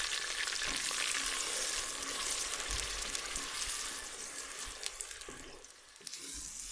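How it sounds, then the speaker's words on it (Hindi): Masala spices frying over medium heat in a pan for black chana curry, a steady broad sizzle with a few soft stirring scrapes, close by and continuous, no voices. "तकरीबन 10 से 15 मिनट के लिए आप इसको भूनेंगे"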